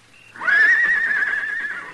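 A horse whinnies once in the distance, a long wavering high-pitched neigh that rises and slowly trails off, fairly clear with little else around it, from a 1955 radio drama.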